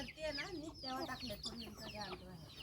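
Chickens on a farm cluck and squabble continuously at close range while being fed grain, a busy overlapping chatter of short calls.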